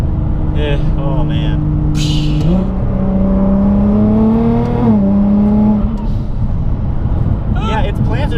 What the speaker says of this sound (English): That blow off valve noise is insane.